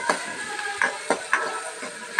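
Onions and garlic sautéing with rock salt in a pan, a steady close sizzle broken by several sharp scraping stirs of a spoon.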